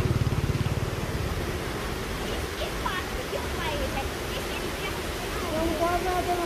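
Water rushing through two opened gates of a canal headworks near Jatlan, Mirpur, Azad Kashmir, a steady broad roar close by, with someone talking over it.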